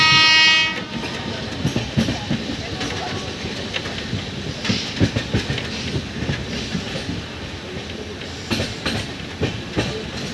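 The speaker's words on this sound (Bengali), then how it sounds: "ভারতবর্ষের সেই ফার্স্টেস্ট ট্রেন অর্থাৎ বন্দে ভারত পাটনার উদ্দেশ্যে রওনা দিয়েছে" A Vande Bharat express pulls out of Howrah station bound for Patna, opening with a loud horn blast before a steady rolling rumble with rhythmic clatter of wheels over rail joints, heard close and without talk.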